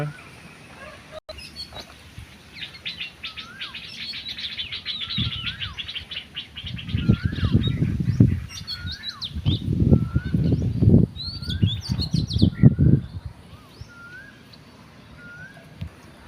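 Birds chirp and tweet in the open morning air at a temple in Ayutthaya, Thailand, with a bird calling and some low murmuring voices in the middle.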